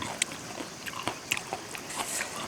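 Cooked buffalo offal being bitten and chewed outdoors in a rice field, giving close, wet crunchy bites in an uneven rhythm with no talking.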